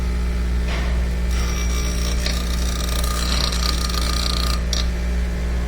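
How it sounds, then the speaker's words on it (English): Hand filing along a brake caliper slider to remove a burr on a VW 1K with the 2.0T FSI engine, a steady rasping scrape with a few brief sharper strokes, close and continuous, over a constant low hum. "I'm just taking the burr off of the slider."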